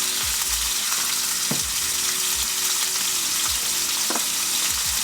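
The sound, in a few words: garlic frying in a pan for steak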